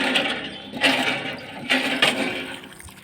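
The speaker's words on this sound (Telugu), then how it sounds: "చేతి పంపు" A hand pump drawing water, with repeated gushes of water splashing out at a steady pumping rhythm, fairly close and without talk.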